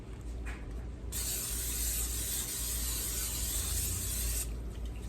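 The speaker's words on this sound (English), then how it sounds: "use some spray on olive oil" Olive oil cooking spray hisses steadily into a hot pan on a stove set to high heat, one continuous burst of about three seconds that stops abruptly.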